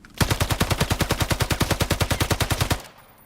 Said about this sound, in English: Onto the ump. This one's a little more easy to control under full auto.